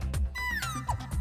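A cat meows once in a short, wavering call, close and fairly clear against a quiet indoor background, with no talking.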